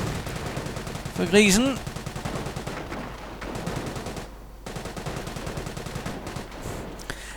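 Automatic fire from a .30 caliber machine gun in a World War II real-time strategy game, sounding as repeated bursts of gunfire mixed with battle effects beneath a commentator's ongoing talk.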